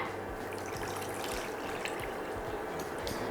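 Water pours steadily into a pot of sugar to make syrup for rasgulla, a faint continuous trickle and splash lasting a few seconds with no talking.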